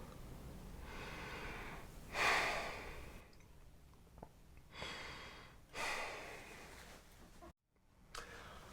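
A nasal breathing demonstration: a few strong, close sniffing breaths drawn and pushed through the nose, separated by quiet pauses, with no talking.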